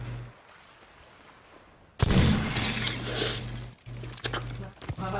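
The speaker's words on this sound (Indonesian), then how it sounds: "Oh, cepat kali tembakan maut baru nih." Rapid bursts of synthetic gunfire in the video game Sea of Thieves erupt after a quiet stretch with a low hum, loud and sustained with a brief pause before resuming.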